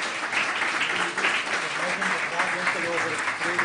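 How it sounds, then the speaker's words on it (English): An audience at a panel discussion on occupational safety and health policy applauds the panelists with dense, sustained clapping, with some speech mixed in. "would like to hear your applause to the panelists for today"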